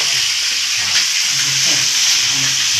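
Prawns coated in masala sizzle loudly in a pan as they are flipped: a close, steady, hissing fry with a faint voice murmuring underneath.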